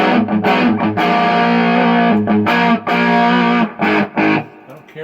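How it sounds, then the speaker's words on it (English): Distorted electric guitar played through a 1985 Marshall 5210 solid-state amp with gain at 8 and bass off, loud chords ringing in bursts with brief gaps, no talking. "don't care for that distortion too much"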